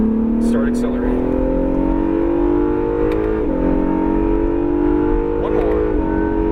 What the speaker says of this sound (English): Start accelerating.